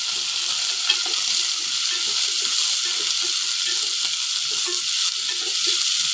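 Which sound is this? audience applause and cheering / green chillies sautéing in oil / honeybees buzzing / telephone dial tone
green chillies sautéing in oil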